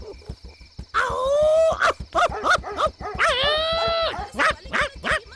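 Several dogs barking and howling near the listener, sharp barks mixed with two long drawn-out howls, fairly loud with no talking.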